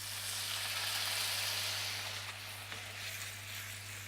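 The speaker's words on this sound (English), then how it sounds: "And now we'll add our white wine." White wine hits a pan of butter and baby vegetables being cooked alongside seared tuna, giving a soft, steady sizzle that fades slightly, quiet and close over a low background hum.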